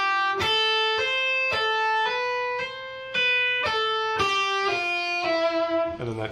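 Electric guitar lick played slowly in a cycle, single clean picked notes stepping down and around at an even, unhurried pace with short gaps, clear and close with no talking.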